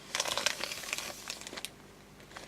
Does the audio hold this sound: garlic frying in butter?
no